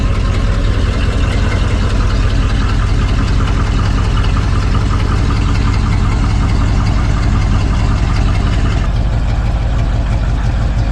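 Engine of an RV running at a steady idle on a chilly morning, a loud continuous rumble with a fine rhythmic knock that holds unchanged throughout, close and with no voices.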